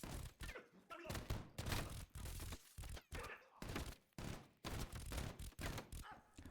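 Gunfire in a small firefight in the video game Call of Duty Cold War, dense bursts of shots and thumps in rapid irregular clusters, loud and continuous with only brief gaps.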